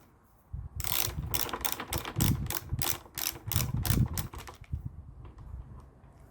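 A ratchet tightens a bolt on a Triumph Truxton motorcycle, a rapid run of loud, close clicking strokes in quick bursts with brief pauses between them, and no talk.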